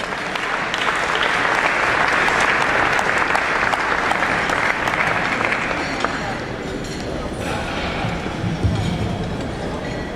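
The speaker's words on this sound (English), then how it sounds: "Round of applause." A hall audience at a publishers' awards event claps for a past president and Publisher of the Year winner as he comes on stage. The applause is sustained and crowded and eases off slightly toward the end.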